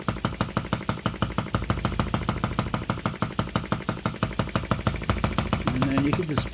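An OKMO 1110 miniature working replica of a 1950s Japanese engine runs at half throttle, a steady, close chugging beat of roughly five pulses per second, with a brief spoken phrase near the end.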